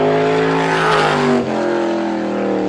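Race car on Star Speedway during a 350 Super time trial lap, its engine a loud steady drone close by with a slight pitch shift as it passes, continuous throughout.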